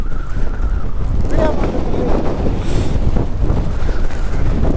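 Strong monsoon wind in Chikmagalur buffets the microphone with a loud, continuous low roar that surges and eases, and muffled voices come through beneath it.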